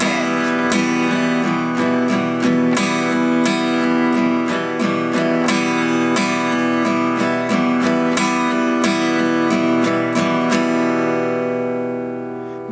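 Acoustic-style guitar strummed with a pick in a steady beginner rhythm, accenting two of the off-beat upstrokes, loud and close with crisp repeated chord hits over about twelve seconds and no voices.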